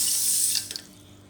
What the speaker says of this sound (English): Next, add in around 1 cup of water.